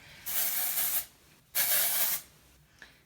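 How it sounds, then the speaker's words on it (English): Dry backcomb spray hissing onto hair from an aerosol can in two steady bursts of about a second each, close and fairly loud, separated by a short pause, then a faint click. "So I'm going to use the dry backcomb spray, which is a bit like dry shampoo, but it's not so powdery"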